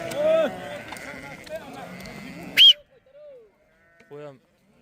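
Sheep bleating among a flock during shearing, a brief close call after steady background noise, then a fainter bleat near the end; some talk early on.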